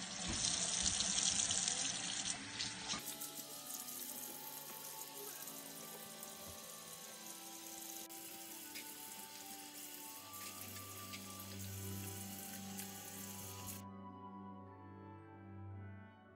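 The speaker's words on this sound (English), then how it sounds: "I'll just wash my face now." Tap water runs steadily into a bathroom sink during face washing, a continuous close splashing hiss that changes as hands dip in and out of the stream, then cuts off abruptly near the end.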